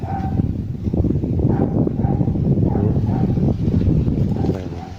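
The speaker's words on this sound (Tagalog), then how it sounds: "Grabe, tumatahol talaga yung aso." Dog barking outdoors along a path, repeated bark-like yelps and whimpers over continuous background noise and rustling.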